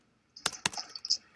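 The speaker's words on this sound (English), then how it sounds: "So there you see Robbie Bolton's typing into that, as well as Ranger Davey" Several sharp keyboard clicks in quick succession, close and fairly crisp, from someone typing on a computer keyboard during an online collaboration session, with no speech.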